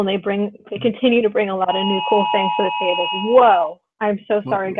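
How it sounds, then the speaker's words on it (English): A phone's emergency alert for a flash flood warning during a storm sounds as a steady sustained tone lasting about two seconds, heard under ongoing conversation before a speaker reacts. "that is my phone letting me know"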